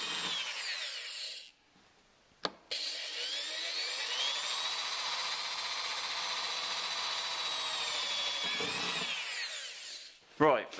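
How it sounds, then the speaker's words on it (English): A power drill whines steadily while drilling holes to fit a snorkel on a 2006 Mitsubishi L200 diesel, with a long continuous run, brief pauses and stops near the start and end, close and loud. "Okay, so we're just going to drill the holes."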